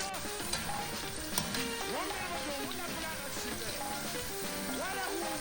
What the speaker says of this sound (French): on va rajouter les pommes de terre et on va les frire jusqu'à ce qu'ils soient bien dorés